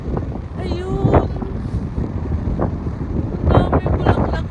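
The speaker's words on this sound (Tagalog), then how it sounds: "Ang mahangin sa labas!" Strong gusty wind buffets the microphone outdoors at a tulip field in the Netherlands, a steady roar with louder bursts, while voices speak over it.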